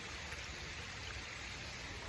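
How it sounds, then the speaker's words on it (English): A small outdoor stream of water trickles and rushes in a steady, soft wash of noise, faint and continuous with no voices. "only see a small stream of water, like this one right here"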